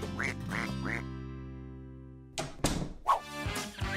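A few ducks being fed quack in short nasal bursts, three together at first, then a pause and a few more, close by.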